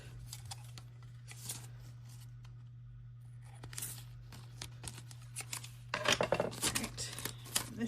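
Scissors trim paper close by, quiet snips and faint papery crinkles scattered over a steady low electrical hum, growing busier and louder toward the end.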